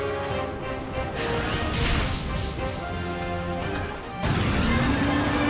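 Meteor Smash hammer attack in Monster Hunter Stories 2, a heavy crashing impact with booming, rumbling layers, loud and dense over game music and effects.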